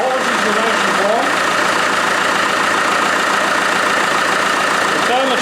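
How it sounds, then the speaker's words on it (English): A car engine idles steadily while warming up during a radiator flush and coolant change, a constant loud drone running through the whole stretch with no one talking. "I've got better things to do than watch an engine warm up."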